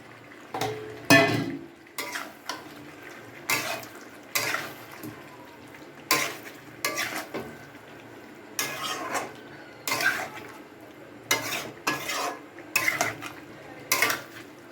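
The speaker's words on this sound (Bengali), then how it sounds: "এবার সেই আলু ভাজাটা আর পেঁপে যে ভেজে রেখেছি এটা দিয়ে দেবো।" Fried potato and papaya pieces being added to a pot of chicken curry, with repeated clanks and scrapes of a metal spoon against the pot in irregular bursts, close and fairly loud against a quiet room.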